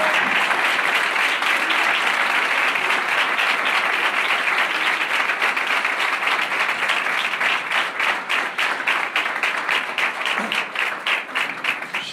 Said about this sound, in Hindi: जोरदार तालियां खुदा के जलाल के लिए।